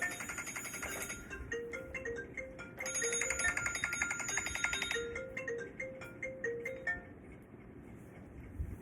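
A phone ringtone plays its repeating electronic melody for several seconds, fairly close and steady, with no one talking over it.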